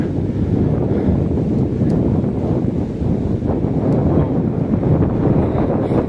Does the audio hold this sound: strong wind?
yes